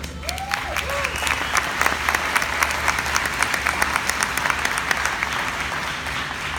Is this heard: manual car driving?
no